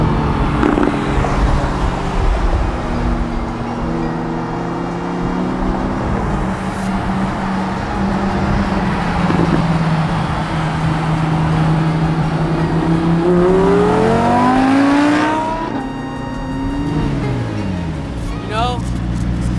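McLaren 570 driving in track mode: a loud engine drone rises and falls through gear changes and revs, with a sweeping climb near the end, while people talk inside the car.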